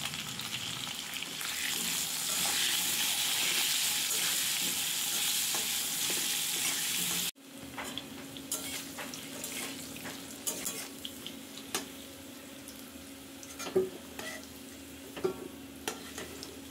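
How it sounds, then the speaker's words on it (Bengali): Potatoes frying in mustard oil on a low flame, with a steady hiss of sizzling oil close by that drops sharply midway, leaving quieter crackling with occasional scrapes and clinks of stirring, no talking. "আলুগুলো লো ফ্লেমে লাল লাল করে ভেজে নেব"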